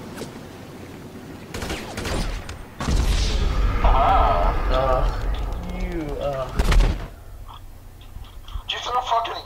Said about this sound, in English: I got this grenade, so I'll throw it